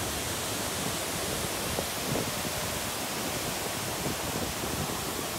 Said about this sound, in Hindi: आवाज सुनिए वॉटरफॉल।